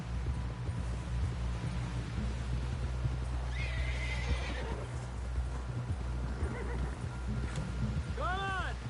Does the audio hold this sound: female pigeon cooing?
no